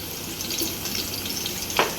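Garlic fries in hot oil for an Agri-style gravy, giving a steady close sizzle with a soft stir and one sharper spatter near the end.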